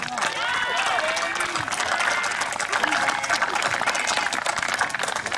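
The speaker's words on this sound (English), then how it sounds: "How about a round of applause" An audience applauds steadily for the leader of the 102d Army Band, a dense crowd of clapping at a sustained, fairly loud level, with no voices over it.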